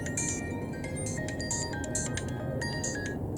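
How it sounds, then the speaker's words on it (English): A phone rings with an incoming call, repeated bright electronic ringtone bursts in a quick pattern over steady background noise outdoors in a storm-damaged neighborhood. "got a phone call."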